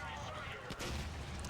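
Pop rocket explosions in RAGE, heard as a dull, steady low rumble of blasts at moderate loudness with a brief dip midway.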